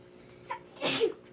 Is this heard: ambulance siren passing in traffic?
no